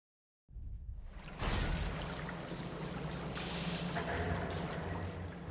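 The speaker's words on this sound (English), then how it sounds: "I hear water." Water flowing through drainage tunnels in the game Duet Night Abyss, a steady rushing pour that starts from silence and then swells into a continuous, fairly close stream.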